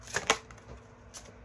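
Tarot cards being shuffled, two quick bright riffling bursts near the start and a third shortly after, close and crisp against a quiet background.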